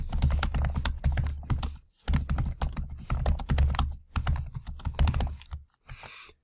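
Computer keyboard typing, entering a URL into a Google Forms page: brisk, irregular runs of clicking keystrokes, close and clear, broken by a couple of short pauses.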